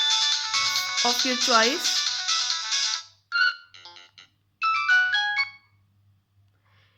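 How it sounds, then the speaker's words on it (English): Ringtone options on a Nokia 110 4G phone play in turn: a sustained bright melodic tone with a sliding warble, then short tuneful chime phrases with gaps between them. Brief talk is heard over the opening. "Fixed ringtone. Here are the multiple options."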